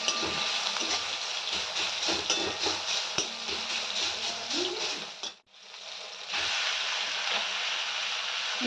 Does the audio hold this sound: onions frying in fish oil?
yes